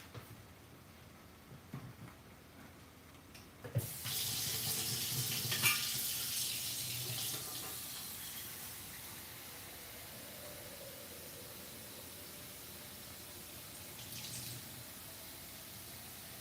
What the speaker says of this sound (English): we will get some water.